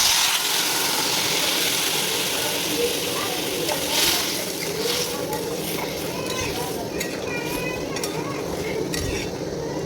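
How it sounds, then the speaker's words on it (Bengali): Water goes into a pan of browned potatoes, giving a steady broadband sizzle and bubbling hiss that holds level throughout, with faint clinks of utensils and no talking. "এবার এর মধ্যে আমি জল দিয়ে দেবো সিদ্ধ করার জন্য।"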